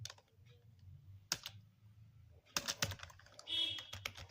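Rapid keystrokes on a computer keyboard while coding, a steady run of close, crisp clicks with a few louder bursts of faster typing, no voices.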